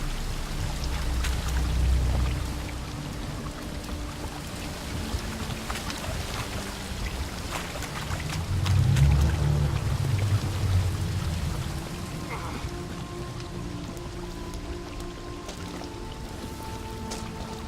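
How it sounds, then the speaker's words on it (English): A waterfall flows upwards in The Witcher 3 video game, producing a continuous rushing, pouring water roar with swelling low surges and faint game ambience layered over it. "A waterfall flowing upwards?"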